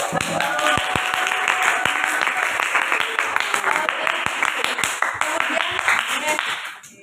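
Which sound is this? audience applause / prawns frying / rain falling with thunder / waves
audience applause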